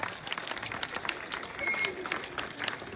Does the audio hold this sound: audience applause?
yes